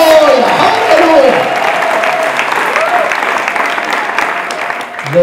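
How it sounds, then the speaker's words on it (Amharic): A church congregation gives loud, sustained applause to the Lord for several seconds, a dense, even clapping that gradually thins near the end, with a voice rising faintly above it. "ጭብጨባ ለዚህ ጌታ ሃሌሉያ ሃሌሉያ።"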